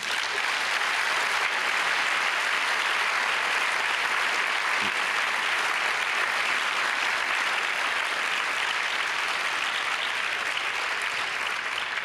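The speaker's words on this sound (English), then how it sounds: "I think that deserves a round of applause." Audience applause at a humanitarian congress session, dense and sustained clapping from a large crowd, even and continuous across the whole stretch without a break.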